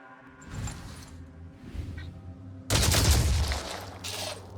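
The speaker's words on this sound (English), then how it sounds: "I might as well just shoot" Gunfire in the video game Phoenix Point, with a couple of softer shots followed by a loud sustained burst of rapid fire and a shorter final volley over a low hum of game music.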